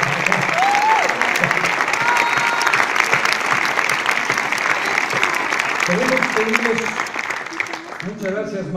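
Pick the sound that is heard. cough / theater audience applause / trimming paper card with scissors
theater audience applause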